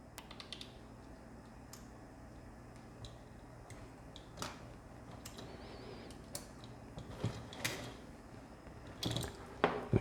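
Small screws are tightened on a vintage 1988 Tamiya Avante RC car, a faint, sparse series of light ticks and clicks with a few sharper taps near the end over a quiet room background.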